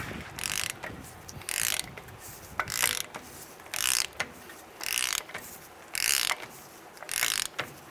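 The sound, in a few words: tightening nut to seat Ford F-150 wheel bearings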